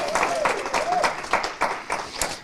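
Applause from the audience at a school district meeting, a handful of separate claps over voices, fairly thin and uneven, fading in and out rather than building into a full ovation.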